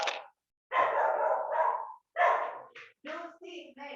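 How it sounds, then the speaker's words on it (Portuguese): A pet dog barks and yelps in several short bursts close by, with brief gaps between them and a person's voice mixed in. "Mônica, eu vou ter que prender meu cachorro."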